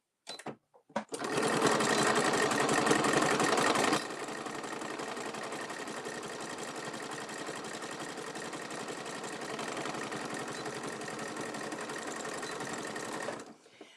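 A sewing machine runs a zigzag stitch on a kit wallet, a steady close mechanical whirring hum that starts loud, eases slightly after a few seconds and keeps going without pause before stopping, no talk.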